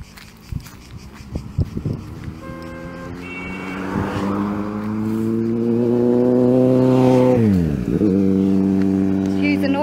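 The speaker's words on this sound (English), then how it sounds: "Excuse the noise of the traffic, just one motorbike." Engine noise swells as a motorbike passes close by in traffic in Kefalonia, Greece, rising to a loud steady drone that then drops off sharply, with footsteps and traffic around.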